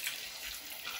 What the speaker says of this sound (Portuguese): Eu coloquei meia xícara de água, vou colocar mais um pouquinho.